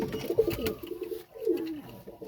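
Pure-bred Royal Teddy pigeons give two low, gurgling coos close up, each a rolling phrase separated by a short pause, alone without talk.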